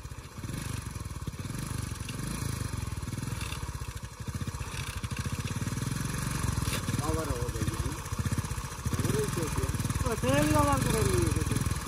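A United 15 model motorcycle with worn-out clutch plates runs steadily at close range, its engine droning throughout beneath loud background noise, with people talking in the background.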